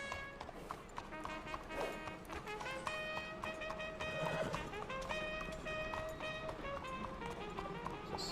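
Hooves clip-clop at a brisk, steady rhythm as a horse is ridden in Red Dead Redemption 2, with chiming game music running over the hoofbeats throughout.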